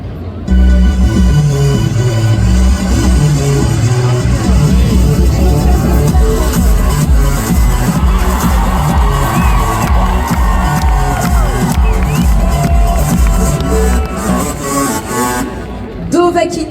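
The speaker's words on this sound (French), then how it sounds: "je vous demande d'applaudir, cher public, notre premier juge qui va apparaître à l'écran" A festival crowd at the Japan Tours Festival cosplay final in France cheers, whoops and shouts loudly and continuously, a dense wall of voices with a louder pitched surge partway through and people calling out over it.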